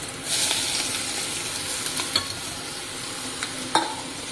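Pumpkin pieces tossed into hot oil with green chili and curry leaves, a sudden loud sizzle that settles into steady frying hiss, punctuated by several sharp spoon clinks and scrapes as the pan is stirred.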